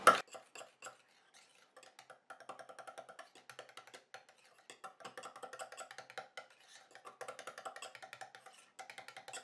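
A mango, coconut and shea foot butter is stirred in a bowl, with a utensil scraping and tapping the sides in quick, light, steady clicks at close range.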